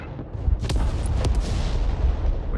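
A mortar team firing artillery in the strategy game Broken Arrow: loud booming launches, with two sharp reports standing out, over a continuous rumble of battle.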